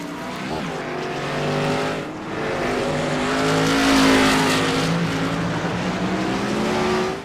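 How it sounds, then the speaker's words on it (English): Race cars at Portland Raceway in the iRacing sim roar steadily with a loud, rising engine whine, as several cars pass together and a brief tire squeal from a lockup cuts through the engine drone. "19 with a little bit of tire lockup right there in front of Xavier"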